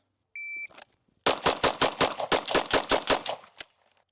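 Rapid string of gunshots from Pilgrim ammunition at a shooting range, about a dozen sharp loud cracks in quick rhythm followed by one last shot, preceded by a short electronic timer beep.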